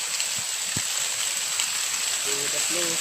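Heavy rain falls in a dense, steady hiss, loud and close, with scattered drips and taps; a voice speaks briefly near the end.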